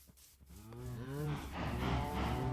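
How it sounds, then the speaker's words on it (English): Cows low in the Minecraft video game, one long, loud, wavering moo after another with no break, close and clear with no talking. "Time to go feed the cows."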